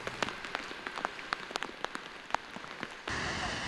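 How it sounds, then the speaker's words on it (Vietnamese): Heavy rain during a storm in Quang Ninh, Vietnam, falling as scattered close drops and splatters on a surface before shifting into a steady, denser downpour hiss. "đã xuất hiện mưa lớn trên diện rộng"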